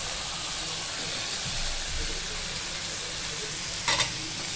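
Loud, even sizzling of mashed eggplant frying in an iron wok, with a brief scrape or clink near the end.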